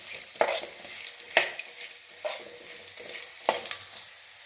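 Garlic sautéing in oil over medium heat, a steady sizzle broken by four sharp scraping stirs of the spoon against the pan, near and clear with no talk.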